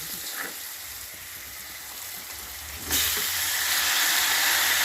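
Tomatoes dropped into a hot pan for Punjabi-style eggplant bharta, a steady sizzling hiss that jumps louder near the three-second mark as they hit the oil and keeps going, with no talking.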